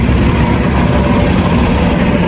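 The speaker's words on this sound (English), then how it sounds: "Ito na yung bus." A city bus pulls up to a bus shelter, a loud heavy engine rumble filling the scene with a brief high hiss of air brakes, close by and continuous.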